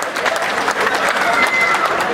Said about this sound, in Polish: I proszę o oklaski dla Odry Ślum.